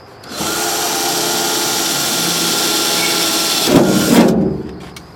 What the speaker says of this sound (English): drill a little hole here.